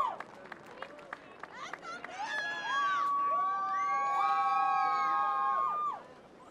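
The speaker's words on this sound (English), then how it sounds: "Looks like you got some fans in the crowd over there." Fans in the crowd at a bricklaying speed contest, the fastest-trowel competition, scream and cheer loudly. Sharp whoops and shrieks first, then sustained high-pitched yelling that holds for several seconds before cutting off.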